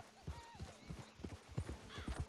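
Horse hooves clip-clop in a steady walking rhythm in the Red Dead Redemption 2 video game, fairly close and quiet, with a brief whinny-like call in the background.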